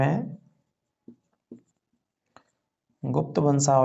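Brief, faint taps and strokes of writing on a board fall in a quiet gap between a man's speech, which is heard at the start and resumes at the end.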